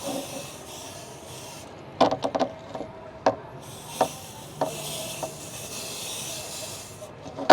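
Yellow paint is sprayed onto a giant wooden bow, giving a steady breathy hiss broken by sharp clicks and taps, heard close and alone.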